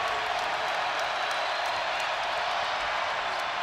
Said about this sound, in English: big crowd comes alive in Fayetteville